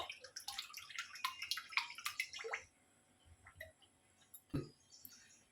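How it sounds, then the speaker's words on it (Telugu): Cold-pressed groundnut oil, about half a litre, is poured out for a mango pickle. A bubbly, gurgling trickle runs for about two and a half seconds, then quiet follows with one faint tap. "ఇది లీటర్ గానుగుల నూనె. ఇందులో సగం పోస్తా."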